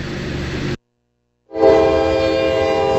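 Train horn blaring loud and near at an Alabama crossing in Jemison, sounding in two long sustained blasts split by a brief silence, with the rumble of a passing train beneath.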